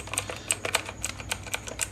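Typing on a cheap mechanical keyboard with RGB backlighting, a rapid run of close, crisp key clacks at an uneven rhythm with no talking.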